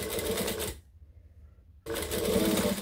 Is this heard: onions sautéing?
no